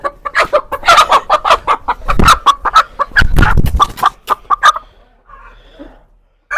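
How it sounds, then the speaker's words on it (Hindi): An Aseel hen clucking close by in a steady run of short, rhythmic clucks, then falling quiet with faint background sound. "अभी अच्छा एक और मुर्गी भी है"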